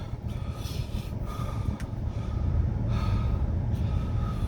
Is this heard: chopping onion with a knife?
no